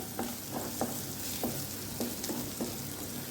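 Crushed coriander seeds fry in a pan with a steady sizzle, while a spoon scrapes and stirs in several sharp, evenly spaced strokes, close and fairly quiet with no talking.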